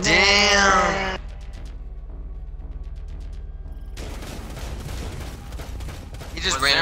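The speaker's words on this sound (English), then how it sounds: "He just randomly started shooting through the wall, though." Video game gunfire shooting through a wall: a voice at the start, then a string of evenly spaced shots, quieter and muffled, followed by a louder, denser barrage and another voice near the end.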